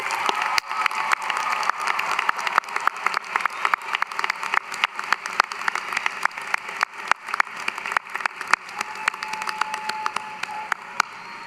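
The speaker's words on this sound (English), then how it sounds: "graduates, please join me in a resounding applause to thank them for everything they've done." Scattered applause rises through a large hall at the UCF Spring 2025 commencement, individual claps cracking sharply over a softer wash of distant clapping that keeps a fairly even level throughout.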